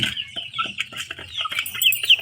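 Hill chicken chicks cluck and peep steadily at close range while pecking at feed mixed with Livabet medicine, a busy chorus of short high calls with no talking.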